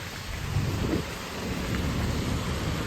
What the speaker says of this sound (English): Yeah, that rain is just not letting up.